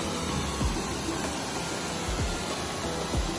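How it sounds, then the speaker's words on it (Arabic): Strong waterfall at Trabzon, Turkey, a loud, steady broadband rush of falling water filling the whole clip, with a few low thumps and no talk. "صوت مي قوي"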